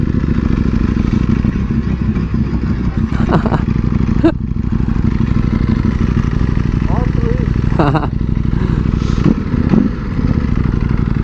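A motorcycle rides along a beach, its engine rumbling continuously and loudly up close, with a few brief clatters and scrapes and a person talking over it.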